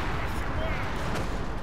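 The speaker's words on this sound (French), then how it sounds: "On se fait tirer dessus." Battlefield gunfire rattles in the World War II strategy game Company of Heroes 2, loud dense shots and blasts forming a continuous roar that voices talk over.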